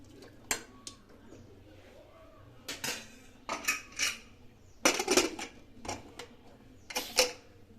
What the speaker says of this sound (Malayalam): ഇനി നമുക്ക് ഒരു തവി കൊണ്ട് ഇതിനെ ഒന്ന് ചുറ്റി ഇളക്കിയിട്ട് കൊടുക്കാം.